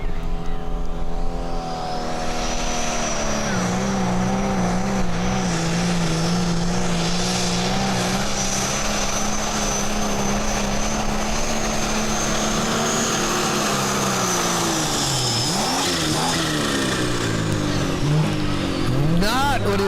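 Turbocharged pulling tractor engine at a tractor pull, roaring loud and sustained at full revs for the whole stretch, with the pitch holding steady before sagging and climbing again near the end.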